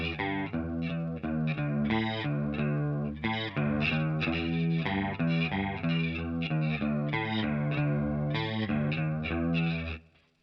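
Electric guitar with chorus and light distortion plays the main riff of a song, a steady looping single-note figure repeating at an even pulse, loud and close with no talking.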